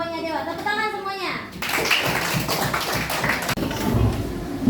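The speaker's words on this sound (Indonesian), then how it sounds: "Tepuk tangan semuanya" Classroom of children clapping for a student group after their presentation, a sustained patter of applause following a short stretch of a teacher's speech.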